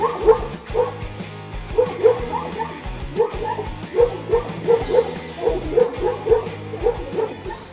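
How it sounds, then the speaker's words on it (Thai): A dog stands its ground against a bear, letting out a rapid, close series of sharp barks and yips mixed with brief whimpers, repeating rhythmically throughout. "มันใช้พลังเห่ายืนสู้หน้าตั้งจนหมีตัวนี้ถอยหลังกลับไป"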